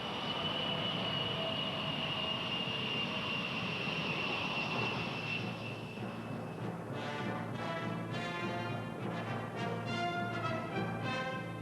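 A fast military jet flying, heard as a steady, broad engine roar with a whining tone that shifts and pulses as it passes, with no voices.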